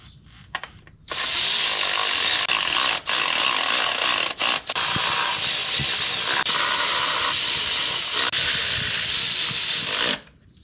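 Bolts on the valve cover of a 2002 Nissan Altima being tightened with a power tool, a steady loud whirring run of about nine seconds broken by a few brief pauses, with no talking.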